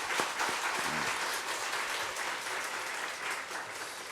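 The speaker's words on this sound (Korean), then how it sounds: "우리 박수로 좀 축복합시다." A church congregation applauds in blessing for an elder during a Korean Sunday service, steady sustained clapping filling the room throughout, close and fairly loud with no speech over it.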